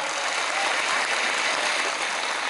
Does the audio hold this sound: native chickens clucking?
no